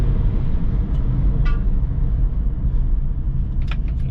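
A 2001 Honda CR-V engine running steadily under load with a low, even drone, shifting gears along the way; brief faint clicks and squeaks surface near the middle and the end.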